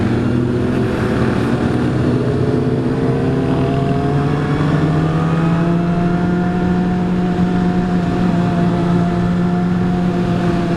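A group of motorcycles, among them a Honda CBR600RR, drones loudly and continuously nearby, with rising engine tones climbing as the bikes rev and pull away, no talk.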